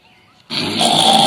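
A man imitating a lion's roar gives a sudden loud, raspy growl that bursts in after a moment of quiet and holds rough and sustained until the end.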